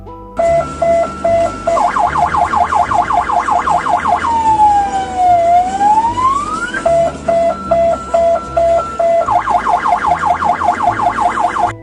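A loud, close ambulance siren in traffic alternates between a rapid yelping pulse and a slow rising-and-falling wail, then returns to the fast yelp over a steady engine drone.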